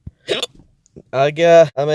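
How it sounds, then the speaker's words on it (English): Hiccups from a person, several abrupt voiced gulps with pauses between them, close and fairly loud, followed by strained vocal sounds. "I'm getting tortured by these hiccups right now."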